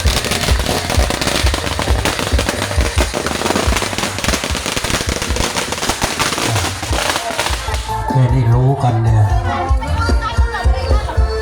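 Strings of firecrackers crackle in a dense, loud, rapid burst at a Thai wedding procession on the groom's side, with crowd chatter mixed in, then the popping fades to voices and music near the end.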